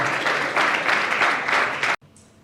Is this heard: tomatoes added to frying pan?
no